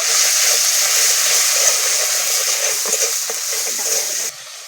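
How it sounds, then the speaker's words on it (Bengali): Ground spice paste with turmeric and salt frying in a pan for dal, a steady broadband sizzle with soft scraping stir strokes throughout, fairly close, dropping quieter near the end; no talking. "মশলাটা ভালো করে ভেজে নেব।"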